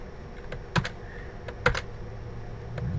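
Typing on a computer keyboard, a few sharp key clicks and clacks scattered over three seconds, close and moderately loud, with a low steady background hum and no talking.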